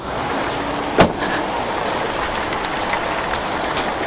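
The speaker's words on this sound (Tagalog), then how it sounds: "Ulan na to?" Steady rain hisses across a surface, with a sharp knock early on and scattered faint drips.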